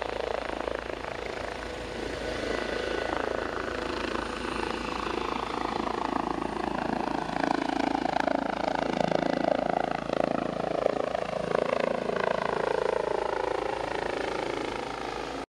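A SMURD rescue helicopter carries an accident victim, its rotor chop a steady, moderately distant throb that holds evenly throughout.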